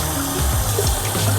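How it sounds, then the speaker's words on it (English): Potatoes rinsed under a running kitchen tap, a steady, close gush of water splashing over them with low, churning rumble throughout and no talk. "we're going to thoroughly rinse these potatoes"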